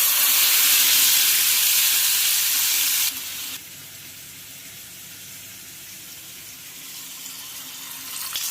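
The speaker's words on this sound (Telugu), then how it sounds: "ఆయిల్ వేసుకుందాం ఆయిల్ కొంచెం ఎక్కువ పడుతుందండి ఈ ఫిష్ పీసెస్ ఇందులో వేసుకుందాం" Fish pieces dropped into plenty of hot oil in a pan give a loud, hissing sizzle at first, which then drops to a quieter, steady frying crackle.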